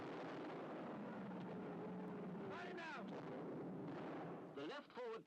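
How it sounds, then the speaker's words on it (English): Tanks firing in a war video, heavy booming blasts and rumbling gunfire over a dense, noisy battlefield wash, with voices speaking over the din at points. "In case you forgot how loud tanks are, they left all the audio in there for you"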